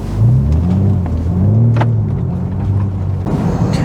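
A BMW G80 M3 Competition xDrive drives along with a loud, smooth exhaust drone that rises and falls in pitch through gear changes, up close and with no talking.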